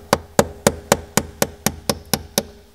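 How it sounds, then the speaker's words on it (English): A sharp pointed pick or chisel taps on the edge of a Honda Accord ignition lock cylinder, ten crisp, evenly spaced metallic knocks close up, alone with no talk. "using a sharp pointed pick or chisel and gently"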